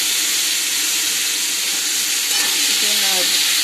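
Chopped tomato with salt and green chillies sizzling in a little oil, a loud steady hissing fry filling the clip, with faint stirring scrapes toward the end.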